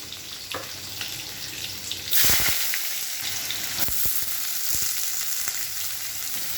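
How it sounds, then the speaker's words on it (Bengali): Sliced onions hit hot mustard oil in a wok and sizzle loudly, a steady crackling fry with a sharp surge as they go in, followed by scraping stirs and clinks of a spatula. "পেঁয়াজগুলো একটু লাল লাল করে ভাজা হোক"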